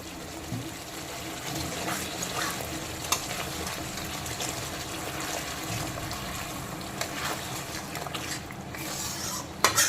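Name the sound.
hot water poured into a kadai of cooked masala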